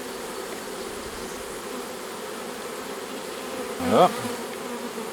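A swarm of bees being put into a hive hums with a steady, close, dense buzz throughout, while a single short spoken word cuts in near the end.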